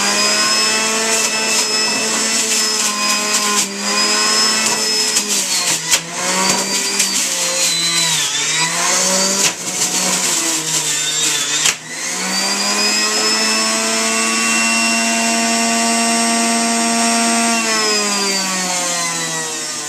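A Sharper Image juicer runs loud while juicing kale, a high whirring motor whine that dips and strains as leaves feed in, then settles back to a steady drone.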